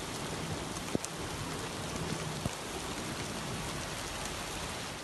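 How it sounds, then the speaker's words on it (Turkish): Heavy rain pours down in a steady, dense hiss during an August 2021 downpour in Turkey that brought flooding, with a couple of faint knocks and no voices. "Meteorolojinin uyardığı gibi yağmur düştüğü yerde sel oldu."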